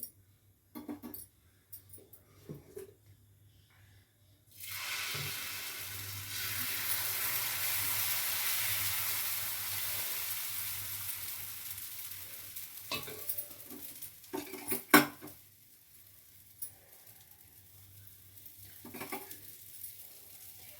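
Vegetable dosa batter hits a hot pan and sizzles loudly for several seconds, fading gradually, with scattered utensil clinks and taps before and after.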